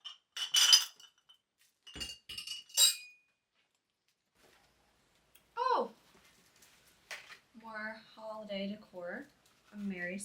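Glass mason jar candle holders clink together in a few quick, close bursts, followed by a person talking alone in a quiet room.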